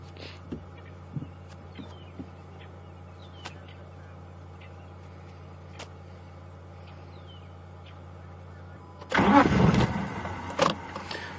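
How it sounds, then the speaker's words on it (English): A safari vehicle's engine cranks and fails to start in a quiet outdoor setting at dusk, a short loud burst of starter noise after several seconds of calm ambience with faint distant sounds. "Seems to be something preventing the car from starting at the moment"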